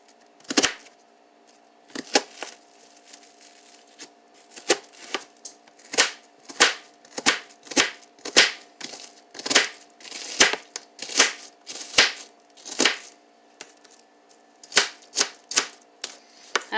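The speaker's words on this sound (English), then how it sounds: "When I mince, I always like to cut the onion in half." Knife mincing an onion on a cutting board, a steady series of sharp, close chopping taps with short pauses between bursts, no talk.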